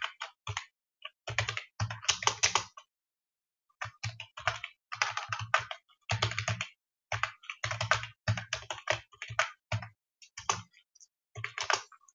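Code being typed on a computer keyboard, close and crisp, in irregular bursts of rapid key clicks separated by short pauses, no talking.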